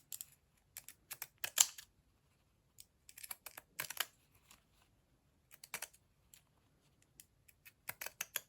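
Scissors trimming the edge of a fabric swatch, a series of quiet, close snips in short irregular bursts separated by brief pauses.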